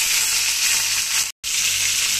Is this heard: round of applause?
no